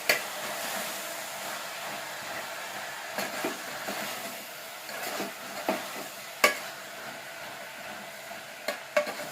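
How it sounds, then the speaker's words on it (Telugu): Turmeric and chilli powder are worked into a gourd curry in a pan with a faint ongoing sizzle and scattered soft stirring clicks and scrapes, quiet and steady without any speech. "పసుపు కారం పసుపు వేసుకున్న తర్వాత బాగా కలుపుకోవాలి"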